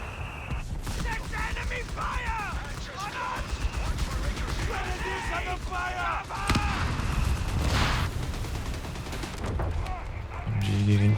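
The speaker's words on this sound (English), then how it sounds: "MG getting vaporized by these airburst shells" Airburst artillery shells in Company of Heroes 3 during a 4v4 tank battle, repeated loud blasts and crackling impacts over a dense roar of gunfire and machinery, with voices under the din.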